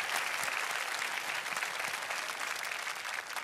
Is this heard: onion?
no